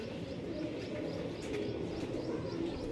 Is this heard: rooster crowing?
no